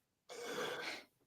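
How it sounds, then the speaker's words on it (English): A single short cough or throat-clear bursts out near the microphone, lasting under a second, at the start of a Lyceum evening talk, then gives way to near silence. "Perfect timing for the cough."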